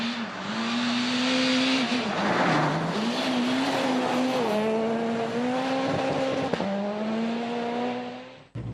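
A naturally aspirated Peugeot rally car at high speed on a stage of Rally Liepaja-Ventspils, its engine holding a steady high-pitched note that rises and dips through gear changes, with faint tyre and gravel noise.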